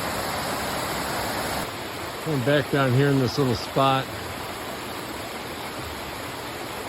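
Waterfall at Raven Cliff Falls near Helen, Georgia, a steady broadband rush of falling water throughout, with someone speaking briefly over it midway.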